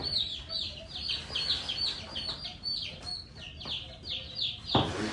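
Cornish Cross meat chicks in a brooder keep up constant high peeping and chirping close by, with short busy calls overlapping throughout and a brief louder rustle near the end.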